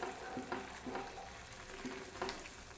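Soft, steady sizzling of green chilies frying in a pan, with a few quiet stirring scrapes at intervals.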